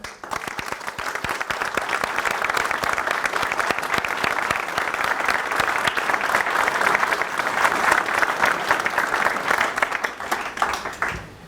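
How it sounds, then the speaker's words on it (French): An audience at a 2023 mayor's New Year address in Meylan, France, applauds agents and elected officials: dense, steady clapping from many hands fills the room, loud and sustained without a break. "Et je vous propose d'applaudir les agents et les élus."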